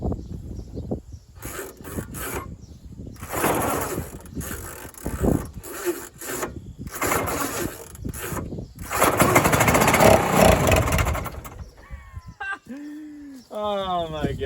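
An old Ski-Doo Alpine snowmobile with a 300cc Rotax engine is pulled over and sputters to life, giving bursts of rough, rasping mechanical noise with gaps between them; a voice speaks near the end.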